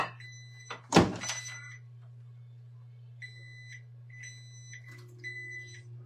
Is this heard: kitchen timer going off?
yes